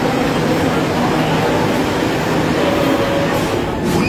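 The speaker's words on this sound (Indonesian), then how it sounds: "Wah, kereta udah datang." A train pulling into a station on the Jakarta MRT line toward Bundaran HI, giving a steady loud rumble and rail hum with a faint tonal whine, continuous throughout.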